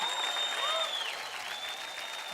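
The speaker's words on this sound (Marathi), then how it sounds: "जोरदार टाळ्या होऊन जाऊ द्या." Applause from a dance show's studio audience, dense and continuous, fairly distant, with a faint high electronic whine running over it.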